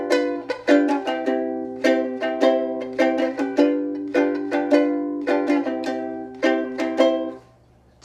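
Piano chords sounded repeatedly, a dissonant tritone chord moving to a resolving chord in a rhythmic pattern, clear and close, with no voices, ending on a brief pause.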